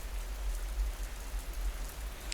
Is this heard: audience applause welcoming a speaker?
no